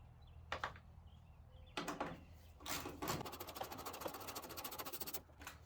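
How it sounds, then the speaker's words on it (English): A ratchet clicks steadily as an 8mm bolt is backed out of a Ford F-150 taillight assembly, preceded by a few brief clunks and scrapes, quiet and close. "Go ahead and remove both bolts and then we can move on."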